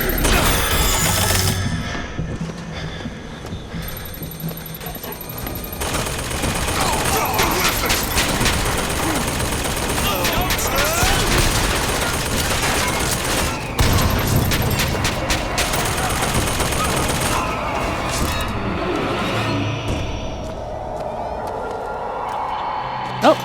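A turret in Bioshock Infinite fires rapid, sustained bursts of gunfire with mechanical clatter, lasting about twenty seconds before fading near the end, under game ambience.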